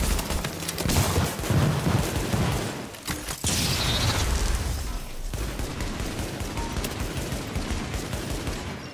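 Sustained automatic gunfire in Tom Clancy's The Division, dense bursts of shots with a brief gap near the middle, loud and close throughout.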